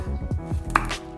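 A knife chops garlic on a cutting board in a few quick, close thuds, loud and distinct with no voices.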